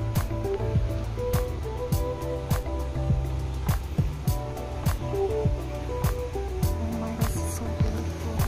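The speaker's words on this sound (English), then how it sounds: "We have a waterfalls around here." Steady rushing water from a waterfall at Mandai Wildlife Reserve in Singapore, a continuous loud roar overlaid with repeated sharp clicks and knocks, with no talk.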